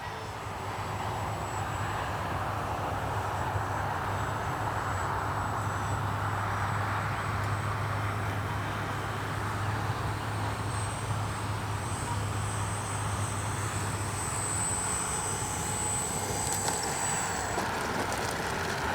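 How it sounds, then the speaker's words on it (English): A Dynam P-61 Black Widow RC plane flies on its maiden flight, giving a steady, continuous engine drone with a faint high whine above it, held at an even level throughout. "that is one great flying plane"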